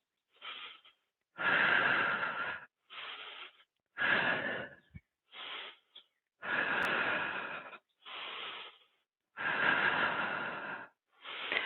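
Slow, deep breaths drawn in and pushed out while holding a plank during a slow-flow yoga session, about eight long inhale and exhale bursts, close and clear, with short quiet gaps between them.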